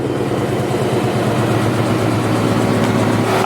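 A Ford Raptor truck's deep, rumbling V8 engine idles steadily through loud straight-pipe exhaust, with a constant throaty burble and no other sounds.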